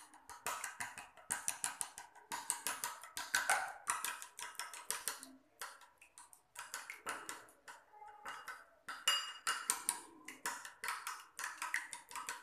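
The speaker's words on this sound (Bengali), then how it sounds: "এই ডিমটিকে খুব ভালো করে ফেটে নিতে হবে" An egg is whisked in a bowl with quick, rhythmic metal-on-bowl clicks and taps in bursts, close and fairly quiet, with brief pauses between runs and no talking.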